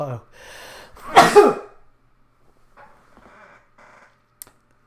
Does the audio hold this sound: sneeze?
yes